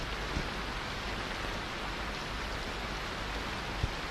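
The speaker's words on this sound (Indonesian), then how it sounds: "Kalian dengar bunyi rintik hujan itu?" Light rain patters steadily in a scene from a spoken drama, a dense, even hiss of drops with a few faint ticks and no talking over it.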